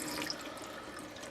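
Water from a hose runs through a tube extension into a darkroom film washer, a steady close hiss of flowing water with faint splashing throughout.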